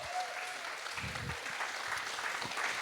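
An audience applauding poets at a poetry slam regional final, a dense, even wash of clapping from a crowd that holds steady at moderate loudness throughout.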